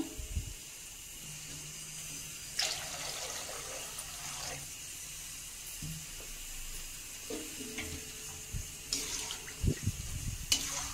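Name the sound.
water being poured into rasam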